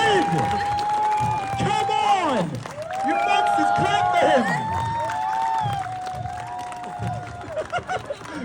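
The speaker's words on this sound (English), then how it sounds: "Clap for the kid!" Street performance crowd clapping and cheering for a child performer, a loud mix of applause and whoops with raised voices talking over it.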